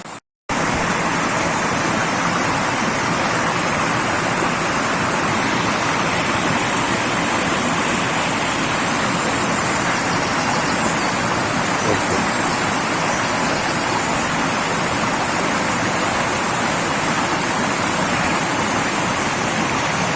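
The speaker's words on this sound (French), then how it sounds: "la source du Loquet, vous voyez, il y a un beau débit là" Spring water pours out strongly at the Lauquet source in the Aude, a dense, loud, unbroken rushing roar that holds steady throughout after a brief cut at the start.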